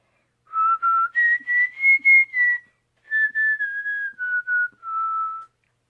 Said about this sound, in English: Can you whistle? Yes, I can.